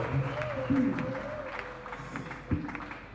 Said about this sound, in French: Est-ce qu'on peut acclamer pour notre Dieu?